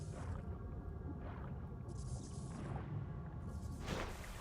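Eerie whale-like chirps and swooshing tones drift over a steady low rumble in the ambient soundscape of the Ninja Gaiden 2 video game, repeating softly and continuously without any voices.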